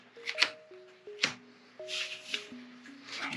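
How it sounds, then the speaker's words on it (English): Pokemon trading cards being shuffled by hand, with soft riffling bursts of card noise over about three seconds, fairly close, while light music plays underneath. "We're gonna shuffle before that."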